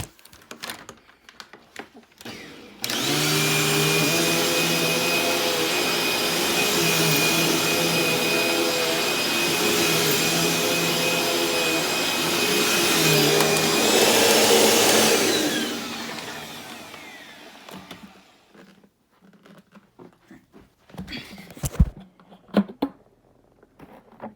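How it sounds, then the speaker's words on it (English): A Eureka Light Speed vacuum cleaner runs on its lowest setting for about thirteen seconds, a steady close whine with a faint high tone, then winds down into quiet handling clatter and knocks. "It has to be on the lowest setting, not the highest setting, because I've done all my vacuums so far on the lowest setting."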